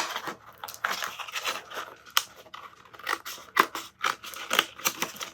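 Material for a resin tray is cut by hand, giving a close, quiet series of irregular sharp snips and crackly scrapes spread across a few seconds, with no talking.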